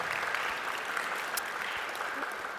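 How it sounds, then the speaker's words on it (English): Audience applause at a high school Wall of Fame ceremony, steady clapping from a crowd heard at a moderate distance and fairly quiet. "Yeah, please a round of applause."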